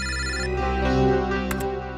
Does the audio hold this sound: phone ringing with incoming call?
yes